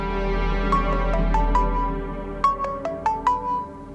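A phone rings with an incoming call, a bright electronic ringtone repeating a rising melodic figure of short tones twice over a steady background hum, with no talk.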